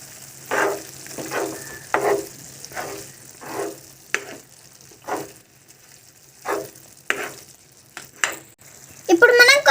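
Mutton keema curry sizzling in a pan as garam masala is stirred in, with a rhythmic series of loud scraping stirs roughly every second over a low frying hiss, ending in a brighter clatter.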